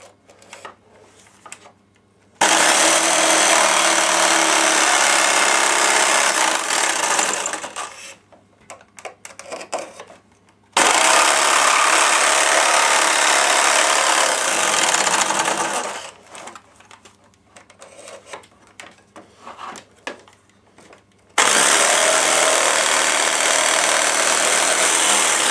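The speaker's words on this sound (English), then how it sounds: "so as I can fit the blade in with my jigsaw" A jigsaw cuts through a wooden N gauge model railway baseboard in three long, loud, buzzing bursts, separated by quieter pauses.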